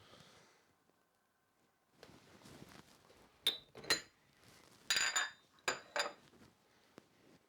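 Spoon stirring a coffee brew in a vessel, a few sharp clinks and scrapes against the side in quick irregular bursts, close and fairly quiet, with near silence before.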